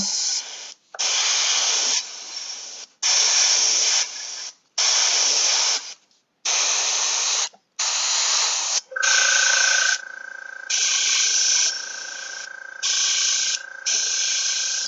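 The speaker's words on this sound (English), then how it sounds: "Stynel Res is amazing airbrush primer." An airbrush sprays Stynylrez primer onto a small group of Malifaux miniatures in repeated hissing bursts of about a second each, close and loud, with a steady tone joining the later bursts.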